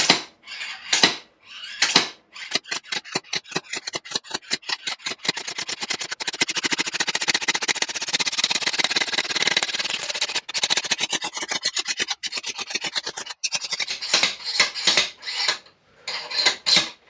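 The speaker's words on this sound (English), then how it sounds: "And here we are, taking the shaft out. Could do with a heavier slide hammer." Slide hammer knocking the swing arm shaft out of a Triumph Daytona 955i rear end, giving a fast run of sharp metallic impacts that speed into a dense rattling burst mid-clip, close and loud, with no talk.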